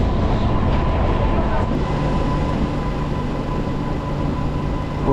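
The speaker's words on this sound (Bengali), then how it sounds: "আমাদের ট্রেনটা দেখতে পাচ্ছেন বাঁকুড়া স্টেশন থেকে ছাড়লো" Steady low rumble of a passenger train departing Bankura station, rolling along the tracks, continuous and fairly loud with a constant mechanical drone.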